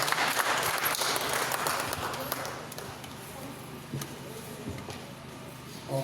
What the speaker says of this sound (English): Can you clap for Bamenda III Council?